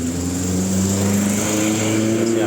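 A fully loaded car bound for Meulaboh sets off, its engine a loud, close steady drone with a slowly rising pitch as it pulls away.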